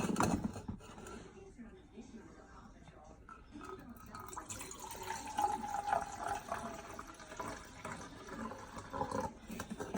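Liquid trickles and fills a cup during a home volcano science experiment. The pouring is soft and close and rises in pitch as the cup fills, with an adult and someone talking around it.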